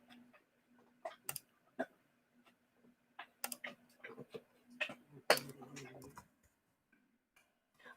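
Keys tapped on a computer keyboard in scattered bursts of clicks, fairly quiet, with a person talking over and between the keystrokes.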